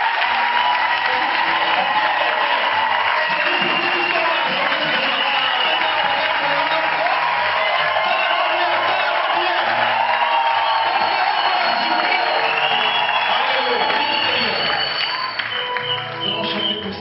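A crowd at a church service cheers and applauds for the king in a steady, dense roar of clapping and shouts that holds at full strength throughout.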